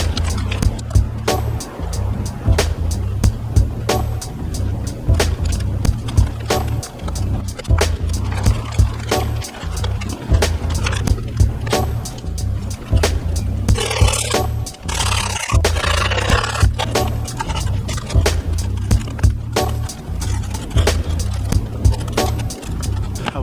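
A Creature Team Logo 8.0 skateboard rolling over pavement, with a loud continuous wheel rumble broken by regular sharp clacks as the wheels cross seams, near and steady, plus a brief scraping stretch midway.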